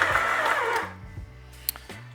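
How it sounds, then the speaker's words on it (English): Stand mixer kneading bread dough at medium speed, a steady motor hum with a rough churning burst at the start that settles into a smoother whir, plus a few light knocks. "I'll mix this on a medium speed just to get everything incorporated"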